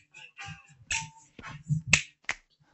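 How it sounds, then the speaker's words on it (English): Fingers snap in a loose, irregular run of about eight crisp clicks over nearly three seconds, close and fairly loud, with brief low thumps alongside and no speech. "I want you physically snapping your fingers."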